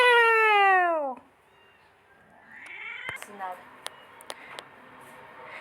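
A house cat gives one loud, drawn-out meow up close, followed by quieter room sounds with a few sharp clicks and taps.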